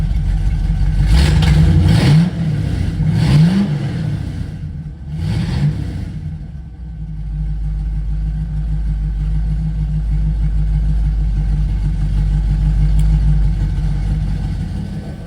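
A car fitted with electric exhaust cutouts, heard from inside the cabin: several rising revs in the first few seconds, then the engine settles into a steady low idle drone.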